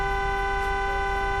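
A car horn in the TruckPlanet video game blares one steady, continuous electronic honk at close range, holding a flat tone for the whole clip with no talking.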